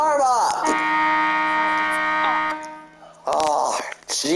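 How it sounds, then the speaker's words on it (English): An alarm buzzer sounds loud and close as a steady droning electronic tone for about two seconds, with someone shouting over it before and after. "shut the goddamn alarm up!"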